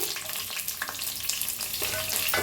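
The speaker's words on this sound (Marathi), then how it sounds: "आता खडे मसाले भाजून घेऊया." Whole spices and chilli sizzle in a mix of hot ghee and oil for Marathi soya rice, giving a close, steady crackle broken by scraping stirs and a few sharper pops, with no talk.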